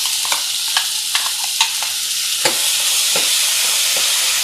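Coconut paste fries in coconut oil over a low flame, giving a steady close sizzle and hiss broken by several soft clicks and scrapes from stirring, with no talk.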